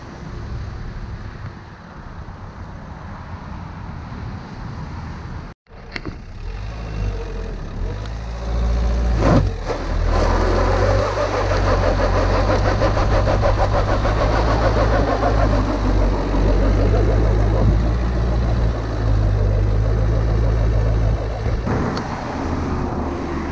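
A Renault Dokker van drives on a test run, its engine idling quietly before a thump, then pulling with a loud steady drone and road and wind noise.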